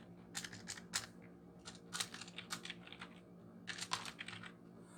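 Light typing on a computer keyboard, a channel name being entered: irregular quiet key clicks in quick clusters over a low steady hum, no voices.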